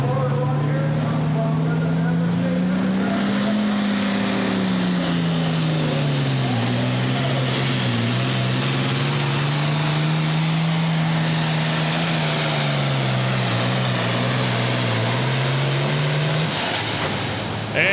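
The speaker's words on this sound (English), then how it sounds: "our final hook of the category will be Brett Weber on the tractor called Never Say Never." A Farmall farm tractor, Never Say Never, roars under heavy load pulling a sled at a super farm tractor pull in Hillsboro, Wisconsin, its loud continuous engine note rising and falling in RPM, with an announcer talking over it.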